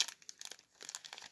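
A Yu-Gi-Oh booster pack from the Maîtres Tactiques display is torn open, giving a quick run of close, crisp foil crinkles and ripping bursts that come in two clusters with a short pause between them.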